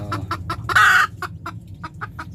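A lone native chicken hen clucking close by in a rural yard, a rapid run of short clucks with one louder, drawn-out squawk partway through, heard with no talk.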